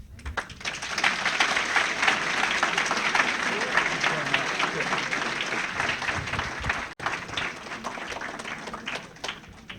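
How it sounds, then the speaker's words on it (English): Sustained audience applause filling a hall after a talk on Clinton administration foreign policy, dense and steady for nearly ten seconds with a brief dropout near the end. "you've already applauded"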